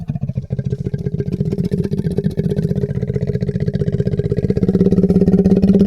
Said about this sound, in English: some long roars, when they are slowed down, sound like an engine of a tractor or a motorcycle